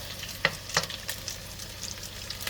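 Salmon patties frying in a pan, a steady faint sizzle with two sharp clicks of a utensil or spatula early on, no talking.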